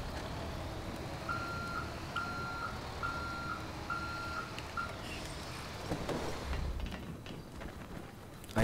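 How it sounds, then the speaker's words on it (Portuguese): Evenly spaced electronic reversing beeps from a military vehicle parking in GTA V, about eight regular pips over a low engine rumble, then a clunk near the end. "Vou estacionar o veículo pra deixar fácil pra gente poder sair"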